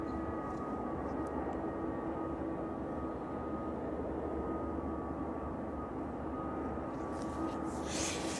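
An airliner taxis toward runway 27 at East Midlands Airport, a steady, fairly distant engine drone holding level throughout.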